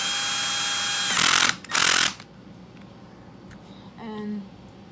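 A power drill whirs in two short bursts, driving screws to fasten the steering servos on an Arrma Kraton RC car, then falls quiet apart from a faint mechanical squeak at close range.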